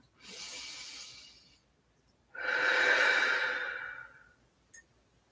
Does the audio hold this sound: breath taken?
yes